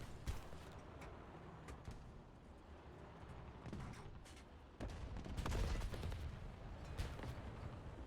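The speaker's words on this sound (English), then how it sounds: "he's shooting at me, though." Continuous enemy gunfire in a military shooter video game, a dense crackle of rapid shots with heavier bursts swelling toward the middle, moderately loud and steady throughout with no talking.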